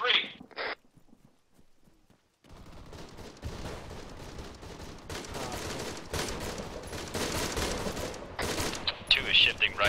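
Suppressing gunfire in the Arma 3 military video game, sustained rapid bursts of automatic fire with scattered distant and nearer shots, loud and continuous after a brief quiet start, with voices talking over it.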